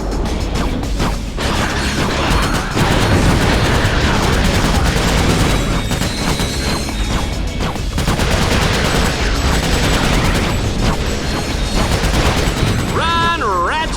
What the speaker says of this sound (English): Fusion rifles are a good long-range weapon which can be zoomed in to accurately shoot enemies